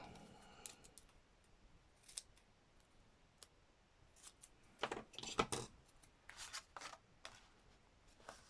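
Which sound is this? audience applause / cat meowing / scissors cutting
scissors cutting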